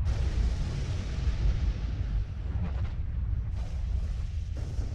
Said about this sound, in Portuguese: Logo em seguida, veio uma explosão muito forte.